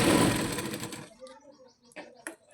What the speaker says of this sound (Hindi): इसकी मेन सिलाई लगा लेंगे और हम बाजू को एक सिलाई और लगा के पक्का कर लेंगे